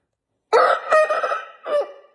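A heavy rooster of about 4.3 kilograms gives a close, loud, harsh crow, broken into three strained bursts with short gaps between them.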